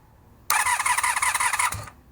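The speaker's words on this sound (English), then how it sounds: "try to turn the engine over," A cafe racer motorcycle engine that won't start cranks over in a rapid, pulsing whir for about a second, then cuts off abruptly.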